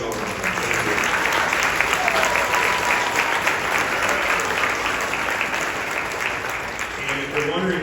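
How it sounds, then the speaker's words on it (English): An audience at a fifth-grade Christmas band concert claps warmly for the Booster Club, a full, sustained round of applause filling the room that fades slightly toward the end. "give our whole Booster Club a big round of applause."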